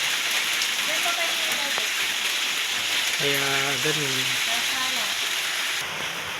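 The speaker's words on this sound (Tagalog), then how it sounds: "Kaya mga kayusi, kita nyo, ang lakas ng ulan. Napakalakas ng ulan sa labas." Heavy rain pours down outside in a dense, unbroken hiss that fills the whole clip, while a voice talks briefly over it.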